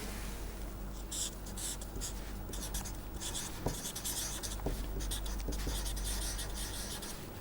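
A pen or marker scratching steadily across a writing surface while a two-band filter bank diagram is drawn, close continuous strokes with short pauses and a few light taps, quiet, with no voice.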